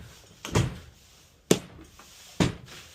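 An RV door on a 2024 Jayco Pinnacle 38FBRK with an aggressive magnetic latch closes in three sharp, close thuds, each a brief snap followed by quiet, with no talk.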